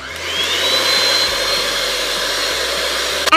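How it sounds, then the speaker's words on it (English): An electric hand mixer beats egg yolks and sugar for tiramisu, a steady loud motor whine running throughout with a slight pitch shift partway through. "Beat the sugar and the yolks together till it gets light and fluffy."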